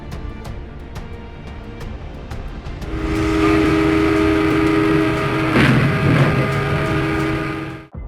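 Utah FrontRunner commuter train passing at a crash site, a low rumble that swells into a loud sustained roar with a brief sharp burst near the end before cutting off.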